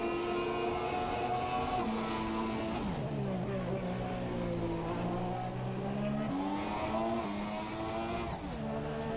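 Race cars in a sim racing game at Melbourne, Australia, with a loud continuous engine whine rising and falling through gear changes and corners, with no talk over it.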